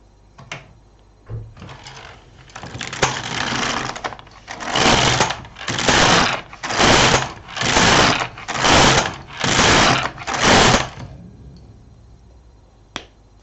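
An LK 150 knitting machine carriage knitting rows in waste yarn: a longer rough sweep, then six regular swishing passes back and forth, each about a second long, loud and close, ending with a small click.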